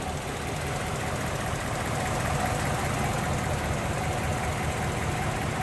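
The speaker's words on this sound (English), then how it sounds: "See how smooth that V8 runs" A stock V8 in a 1956 Ford Fairlane Crown Victoria idles steadily and smoothly from close by, a continuous low rumble with no talk over it.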